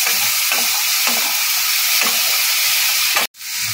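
Loud, dense sizzle of sweet corn frying in hot oil, with a few stirring scrapes, cutting out abruptly near the end.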